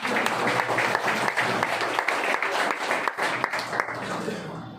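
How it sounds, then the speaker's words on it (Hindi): Audience applause at a Vestige CNT training meeting in Bhiwani, a dense, steady wash of clapping from a crowd that holds loud for the whole stretch and thins slightly near the end. "तालियां बजाओ यार"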